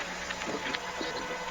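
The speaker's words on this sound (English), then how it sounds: "After that, I added this Cursed Woodland texture from I See You Nowhere's Ultraprint kit." A Cursed Woodland texture sample from the Ultraprint kit forms a dense, steady wash of noisy crackle and rustle with faint scattered clicks, even in level throughout and with no talk.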